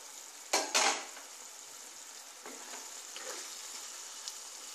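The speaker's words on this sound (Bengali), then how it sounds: "আমি এবার ঢাকা খুলে দেখছি" A lid comes off a pot of vegetarian potol posto, pointed gourd cooked with poppy seed, with a short metallic clatter near the start, followed by a soft sizzle and a few faint clinks.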